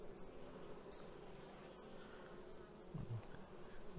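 Faint, steady buzzing of honey bees at a weakened, sparse hive colony, a low hum that continues throughout with a few brief closer buzzes.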